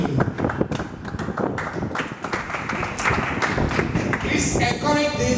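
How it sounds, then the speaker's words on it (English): An audience at a seminar claps for a gentleman, with dense, steady clapping filling the room from start to finish, a few louder slaps and thumps mixed in, and voices faintly heard under it. "Clap for him."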